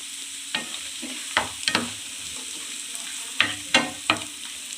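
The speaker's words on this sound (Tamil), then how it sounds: "பூண்டு வந்து கோல்டன் ப்ரௌனில் வரணும்." Garlic frying in oil in a pan for garlic chilli chicken, a steady low sizzle broken by several sharp scraping stir strokes at irregular intervals, close and moderately loud with no talking.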